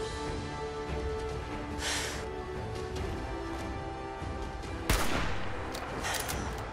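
Gunfire from attacking gunners in Fallout 4, a steady backdrop of shots with a sharp, loud crack near the end and scattered bursts after, no talking.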